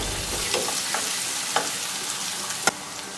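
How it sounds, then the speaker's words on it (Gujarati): Chopped onion for samosa filling sautéing in an oiled pan, a steady close sizzle with a few soft stirring clicks and one sharper knock of a utensil near the end. "ડુંગળીને અહીં આપણે બેથી ત્રણ મિનિટ માટે સાંતળી લઈશું"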